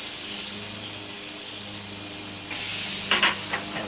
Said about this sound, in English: I'm going to grill up some tomato slices